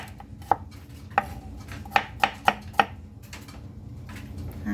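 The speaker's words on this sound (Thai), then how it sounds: "กระเทียมก็จะ ไม่ต้องให้เขาละเอียดมากนะคะ แค่นี้พอ ทำให้เป็นชิ้นเล็กๆพอค่ะ" Knife chops garlic into small pieces on a board in a home kitchen, six sharp close taps at uneven intervals over a low background hum.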